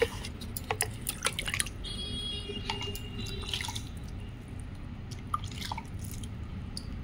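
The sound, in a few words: water poured into plant pot soil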